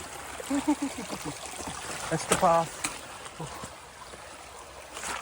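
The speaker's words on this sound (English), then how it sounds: "And we found a stream." A stream flows beside the Camino de Santiago path between Zubiri and Pamplona at night, a steady close rush of water running under brief talk from a walker.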